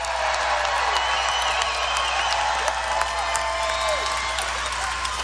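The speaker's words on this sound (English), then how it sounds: "Give them a big round of applause." Steady roar of crowd applause at an outdoor political rally in Melbourne, Florida, with continuous clapping and scattered cheers filling the whole stretch at a moderate, even level.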